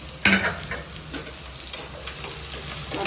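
Onions and green chillies sizzle steadily in a pan for a mutton curry, with a sharp clink of stirring near the start and constant frying hiss throughout.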